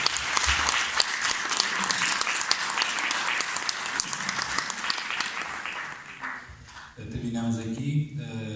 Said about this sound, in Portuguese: Eu pedi uma última salva de palmas